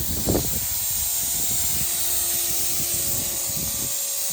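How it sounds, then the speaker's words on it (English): Steady broadband hiss of steam escaping from a leak at the thermostat housing of a parts truck's engine, continuous and close, with faint low engine rumble beneath. "It's good steam."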